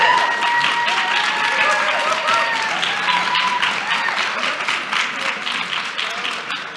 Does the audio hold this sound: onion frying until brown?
no